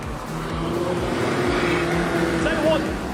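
Speedway race cars launch together at the start at Carina Speedway, with a loud, dense engine roar, rising revs and tire noise. A commentator speaks over the racket.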